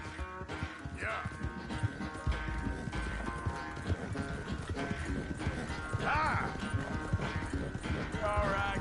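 Horse hooves clatter in a steady galloping rhythm in the video game Red Dead, under a busy layer of music and voices, with a brief whinny partway through.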